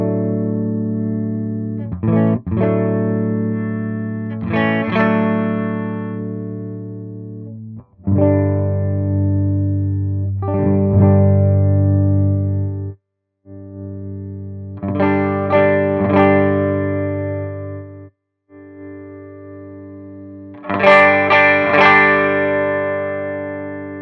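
Clean electric guitar chords through a Yerasov British Citrus BC-5 preamp on its clean channel ring out in sustained strums with short pauses between phrases, bright and shimmering with a touch of effect.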